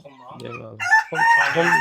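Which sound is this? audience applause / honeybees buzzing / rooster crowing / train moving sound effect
rooster crowing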